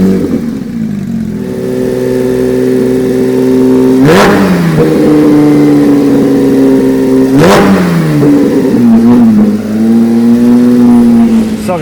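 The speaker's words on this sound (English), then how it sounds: "that car basically is a GT3 with no roof and has an Acura exhaust on it" A Porsche Speedster, a roofless GT3 fitted with an Acura exhaust, revs repeatedly at close range, sharp throttle blips rising and falling over a steady idle, loud and clear.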